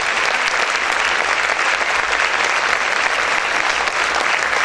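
A church congregation claps loudly and continuously for the Lord, a dense, even wash of applause with no clear talk over it.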